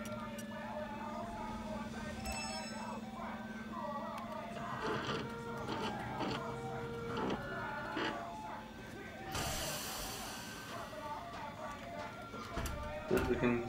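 Printer running in the video game Watch Dogs 2, a steady mechanical whirring and clicking printing sound within a busy game soundscape, with a burst of noise partway through.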